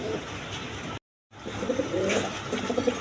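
Quality running-pair pigeons, a breeding pair kept for eggs and squabs, coo in repeated low throaty phrases close by, with a brief total dropout partway through and other birds faintly around.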